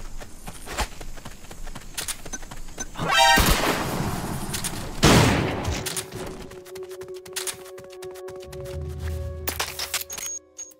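Explosions from C4 charges destroying enemy supply targets in Metal Gear Solid: Peace Walker, two loud booming blasts in quick succession with debris crackle, followed by game effects and a sustained electronic tone.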